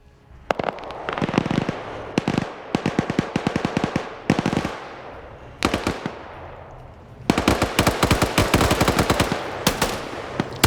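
Bursts of rapid automatic gunfire in an Africa-set military training operation in a video game, several sustained volleys of sharp crackling shots with short pauses between them, loud and close.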